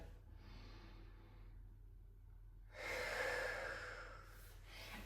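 Someone does a slow deep breathing exercise, a quiet drawn-out breath giving way to a louder, rushing breath up close, with no speech and a low hum underneath.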